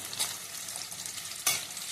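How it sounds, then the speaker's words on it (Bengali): Onion frying in a pan until reddened, with a soft continuous sizzle broken by two brief spatula stirs, one early and one louder scrape near the end. "পেঁয়াজটা আমাদের লাল হয়ে আসছে, ফ্রাই হয়ে গেছে"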